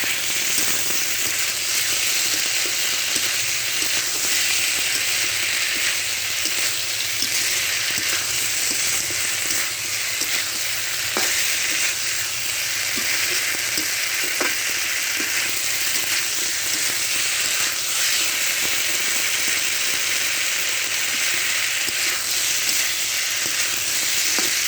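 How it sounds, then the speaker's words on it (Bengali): Potato and torul (ridge gourd) frying in a pan, a loud, continuous bright sizzle throughout with occasional faint clicks of stirring. "এবার ভেজে নিতে হবে।"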